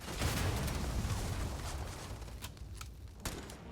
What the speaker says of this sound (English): That was a big kaboom.